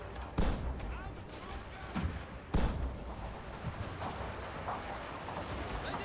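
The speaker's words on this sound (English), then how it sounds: "We're going to open up with shrapnel fire" Artillery shrapnel fire in the Shogun 2: Fall of the Samurai game, heard as a few booming blasts over a steady battle din, with a voice speaking through it.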